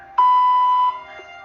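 A single electronic beep tone in an automated scam phone call, a clean, steady pitched tone lasting under a second, alone on a quiet telephone line.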